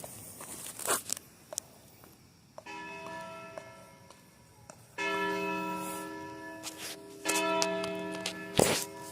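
A church bell rings out the six o'clock hour beside a creek, its tolls arriving in separate bursts with long ringing overtones. The bell sounds moderately distant over quiet outdoor ambience, and a few brief rustles and clicks occur close by.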